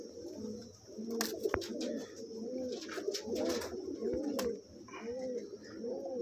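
Malwai Punjabi pigeons cooing steadily at close range, a rolling series of soft low coos repeating with a few sharper clicks and rustles mixed in.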